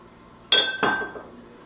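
Two bright glassy clinks a moment apart, a bottle of Cinzano sweet vermouth knocking against a mixing glass while making a Manhattan, close and clear with a short ringing tail.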